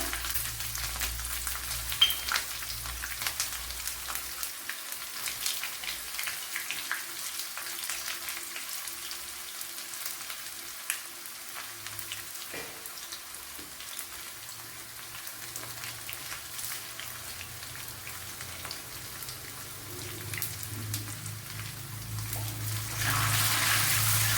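Shallots frying in hot coconut oil with fenugreek and mustard seeds for sambar, a steady, hissing sizzle with scattered crackles and pops, close and fairly quiet throughout.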